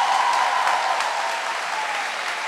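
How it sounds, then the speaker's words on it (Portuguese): A church audience gives a round of applause: thick, steady clapping from many hands, close and loud throughout, easing only slightly toward the end. "Uma salva de palmas para a santidade desses."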